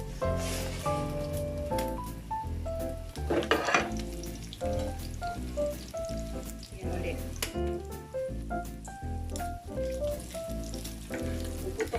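Meat frying in a pan of oil, making a sustained sizzle with scattered pops beneath a prominent tonal, melodic layer that runs throughout.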